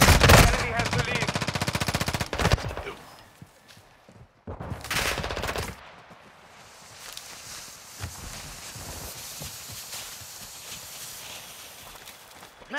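Rapid automatic gunfire rattles in the video game Call of Duty: Modern Warfare II at the Zarqwa Hydroelectric map, loud bursts in the opening seconds and again around the fifth, then quieter scattered shots and footsteps.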